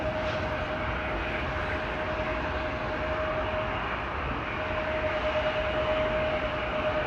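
An airliner departing Amsterdam Schiphol Airport for Cape Town, a steady broad jet roar heard from a distance, holding at a constant level with a faint tonal whine over it, with no voices.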